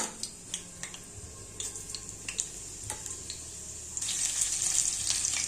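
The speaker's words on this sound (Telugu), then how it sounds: "ముందుగా స్టవ్ పైన ప్యాన్ పెట్టి ఆయిల్ హీట్ అయ్యాక ఆవాలు, జీరా," Mustard seeds and cumin sizzling in hot oil in a pan, with a steady hiss broken by scattered popping crackles and light ticks, growing louder near the end, close by.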